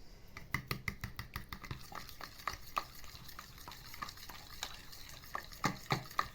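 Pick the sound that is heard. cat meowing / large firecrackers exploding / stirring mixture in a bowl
stirring mixture in a bowl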